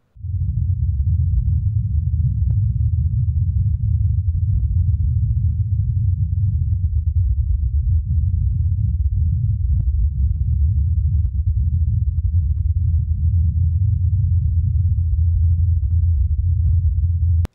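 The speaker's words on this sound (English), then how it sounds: "This is the sound of a helicopter flying on Mars." A helicopter flying on Mars, recorded by the Perseverance rover: a steady, muffled low hum that drones on without a break, faint and distant in character.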